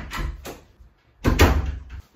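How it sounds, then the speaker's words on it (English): An indoor door is pushed shut in a home, with a couple of quick rattling knocks first, then a louder, fuller thud of it closing, close and with no talk. "let's shut the door"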